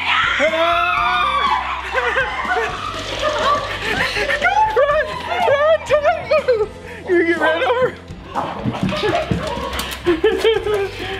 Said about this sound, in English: they're gonna scream here in just a second